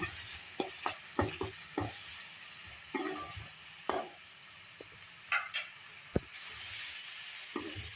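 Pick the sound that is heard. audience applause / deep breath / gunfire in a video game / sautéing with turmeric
sautéing with turmeric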